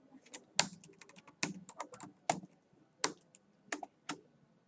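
Brisk typing on a computer keyboard, irregular bursts of sharp clicking keystrokes with short pauses between, close and fairly quiet with no voices.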